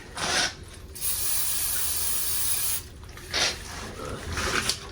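Aerosol brake cleaner sprayed on a 2003 Chevy Silverado rear brake caliper in bursts: a short hiss, a long steady spray of about two seconds, then two more quick blasts.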